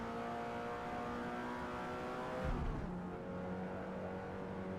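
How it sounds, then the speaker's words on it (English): Race car engine in the Forza video game, a steady sustained drone with layered harmonics that swells briefly midway then settles back, loud and close with no talk over it. "Sounds more like a race car."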